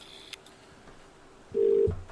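A telephone in the video game The Cat Lady sounds a short dial tone followed by a brief electronic tone, with a faint click early on. The sounds are quiet and isolated, with no talking.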